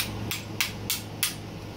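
A ball-peen hammer taps a bronze bushing into place, part of a Tick Performance bushing kit replacing a failed Comp Cams part: four sharp, evenly spaced metallic strikes, close and clear over a low steady hum.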